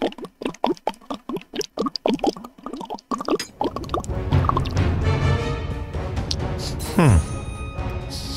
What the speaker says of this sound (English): I'm gonna hit my water bottle here, a little thirsty.